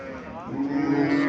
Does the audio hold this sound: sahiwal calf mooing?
yes